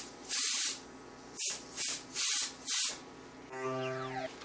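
An airbrush sprays paint through a fabric garment piece used as a pattern stencil, in five short, close hissing bursts followed by a steadier hiss with a faint tonal whine underneath.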